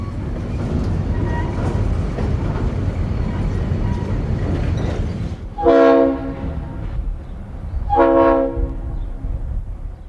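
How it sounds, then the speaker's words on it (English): A freight train rolls up a city street carrying structural steel beams and pipe, its horn sounding two loud, sustained chord blasts over a steady rumble of the moving cars. "the train returns north up B Street with a heavy load of structural steel beams and pipe"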